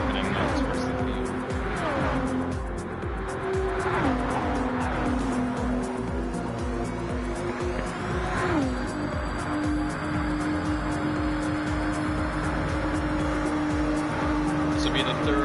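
A pack of race cars competing in Gran Turismo 7, engines repeatedly shifting down in pitch as they brake and accelerate, with tire squeals and cars passing, a continuous loud roar under a commentator's voice.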